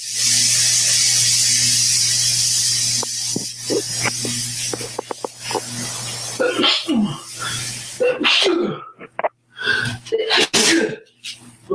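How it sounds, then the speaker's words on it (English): A person sneezes several times in a loud, close burst, with throat clearing and coughing mixed in, after a steady background hum. "I couldn't help but hear you sneeze a bunch of times"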